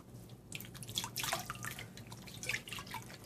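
Vinegar-soaked yarn squeezed out over a sink, with water dripping and splashing into the basin in irregular bursts, close by and moderately loud, no voices.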